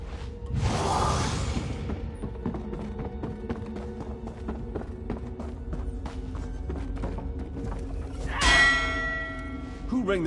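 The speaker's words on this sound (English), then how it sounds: "Who rang the bell?" A church bell in Elder Scrolls Online tolls loudly near the start and again near the end, each strike ringing out and decaying over a bed of footsteps and ambient rumble.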